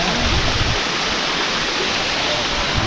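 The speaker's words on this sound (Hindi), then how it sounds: "ये देखो सोम नदी यहाँ से बह रही है" The Son River at Amarkantak rushes past in a loud, steady, broadband roar of flowing water, close and continuous with no pauses.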